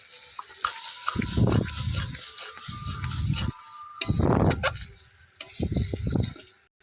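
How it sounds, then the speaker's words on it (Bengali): Masala with ginger paste being stirred and fried in a pan for a chicken curry, giving bursts of scraping, sizzling stirring that start and stop several times, close and fairly loud, with no talking. "এবারে আদার পেস্টটা এই মশলার সঙ্গে আবার নাড়িয়ে নাড়িয়ে ভালো করে কষিয়ে নেব"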